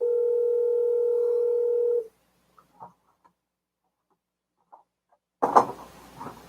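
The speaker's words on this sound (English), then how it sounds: "I need to silence that. That's the work phone." A work phone gives one steady electronic ring tone lasting about two seconds, then goes silent apart from a few faint clicks and a short rustle near the end.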